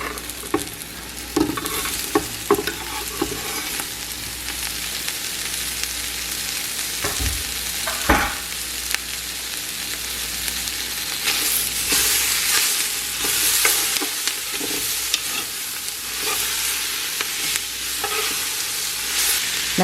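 Sausage sizzles in a pan while a utensil stirs and scrapes it, producing continuous loud frying hiss punctuated by irregular knocks and scrapes throughout, no speech.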